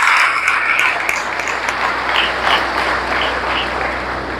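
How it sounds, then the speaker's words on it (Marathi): Applause from a gathered audience at a Guru Purnima celebration, honouring the children; dense, sustained clapping fills the room for several seconds at fairly loud level, with no talking. "त्यांच्यासाठी एकदा टाळ्या होऊ"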